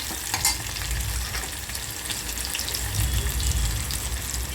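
Garlic, mustard seeds and green chillies crackle and sizzle in hot oil for a khichdi tempering, a dense, steady frying hiss close by with scattered pops and a little stirring, no voices.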